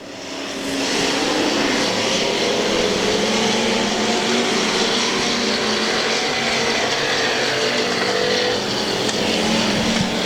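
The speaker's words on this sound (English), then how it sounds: "Those 3 cars nose to tail around the high side." Several factory stock cars roar around a dirt track together in a continuous loud engine din, nose to tail on the high side, with no speech over it.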